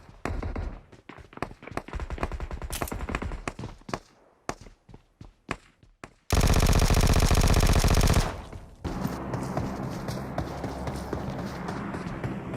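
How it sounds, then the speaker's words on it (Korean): Enemy footsteps in a video game heard through a PS5 Pulse 3D headset: a run of quick, sharp, close steps, then a loud sustained burst of noise and a steady rumbling game background. "지금 제가 듣고 있는 게 적의 발자국 소리인 거죠?"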